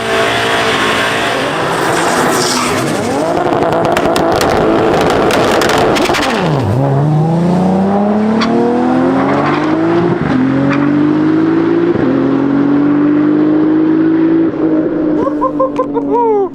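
Loud drag racing cars, including a 1,000 HP Hellcat-swapped Dodge Viper, rev hard and climb through gears in repeated rising sweeps, roaring close by with sharp shifts and no talking.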